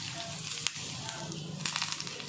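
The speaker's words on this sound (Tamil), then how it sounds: "கருவேப்பிலையும் போட்டு நல்லா தாளிச்சிட்டோம் இதை இப்படி ஊற்றிடலாம்" Hot oil tempering with chillies and curry leaves poured over curd vada gives a steady close sizzle and crackle, with a couple of sharper pops, and no talk over it.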